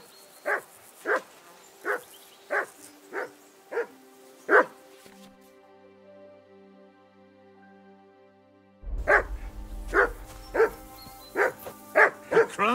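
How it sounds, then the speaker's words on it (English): A dog barks in a steady series of sharp, evenly spaced barks, pauses while a low tone plays, then resumes barking over a louder rumbling background. "Henry, that barking's driving me nuts! Can you get your dog to shut its beak?"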